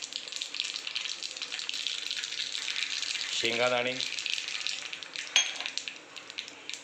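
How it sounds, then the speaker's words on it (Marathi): Cumin and mustard seeds crackle and sizzle steadily in hot oil in a small wok, a close, continuous spitting hiss, with a brief spoken word midway. "जिरा मोहरी छान तडतडलेली आहे"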